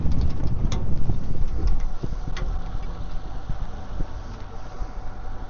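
Wind gusts buffet the microphone on a shrimp boat near Grand Isle, Louisiana, with a low engine rumble running steadily underneath.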